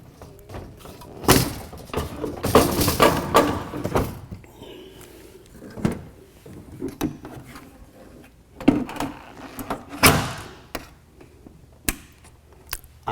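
The filter of an AprilAire 5000 air cleaner slides back into its housing with a few sliding scrapes and hollow plastic thumps, close by, followed by scattered knocks and clicks, with no voices.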